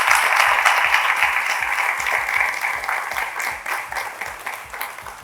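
A studio audience on a televised game show applauds, a thick continuous wash of clapping that holds steady and then slowly thins toward the end.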